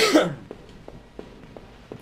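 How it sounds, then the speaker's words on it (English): A single loud, close cough opens, followed by a few faint, evenly spaced soft taps or clicks in a quiet room. "Sorry about the coughs."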